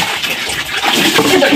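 Water gushes and splashes steadily during a bath, a loud broadband rush filling the whole moment with faint voices mixed in.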